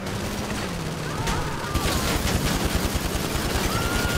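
Gunfire in a tank video game: a dense, loud, continuous crackle of rapid shots that thickens halfway through, with a faint voice underneath.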